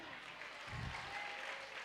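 A crowd claps at a state-level DJ dance competition in a village, brief applause swelling near the middle and fading, with background noise throughout.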